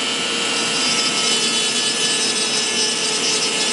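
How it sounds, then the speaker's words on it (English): A knife cuts a light groove into a wooden stick during a carving of a Native American figure, giving a steady close scraping and rasping that runs alone and continuously throughout. "I just kind of put a light groove there."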